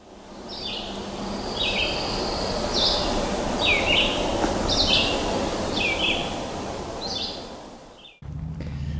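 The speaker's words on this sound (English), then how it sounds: "Even though it sounds like just one bird is singing, often it'll pick up 2 or 3 or 4 different birds." Several birds sing in a marsh preserve, repeated bright chirping phrases coming every second or so over a steady hiss of insects and wind, fairly distant, with no talk.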